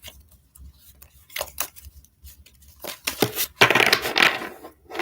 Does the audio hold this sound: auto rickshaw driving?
no